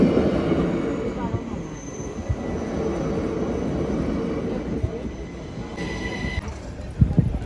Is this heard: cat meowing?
no